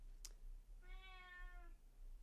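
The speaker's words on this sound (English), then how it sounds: "Cats, what do you think, Dubs" A pet cat gives one clear, drawn-out meow, mid-distance and moderately quiet, preceded by a brief faint squeak in an otherwise quiet room.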